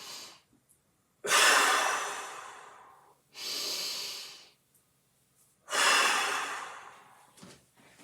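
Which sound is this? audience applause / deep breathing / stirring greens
deep breathing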